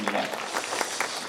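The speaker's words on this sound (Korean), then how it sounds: "박수해 주십시오." Congregation clapping in welcome for visiting mission pastors at a Korean school chapel service, a brief dense patter of many hands close by with some speech mixed in.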